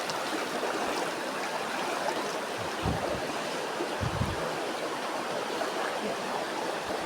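A clear stream flows over gravel and stones on the slopes of Semeru, a steady, close rushing and gurgling wash with no voices.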